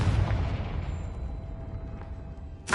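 A Confringo blasting spell explodes in Hogwarts Legacy, a loud boom with a long rumbling decay followed by a sharp burst at the end.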